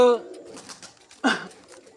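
Someone speaks briefly at first, then household pigeons coo softly nearby, with one louder burst of rustling or calling toward the end.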